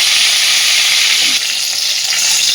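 Pointed gourd (potol) frying in oil, a steady dense sizzle with crackling throughout, close and loud, no voices.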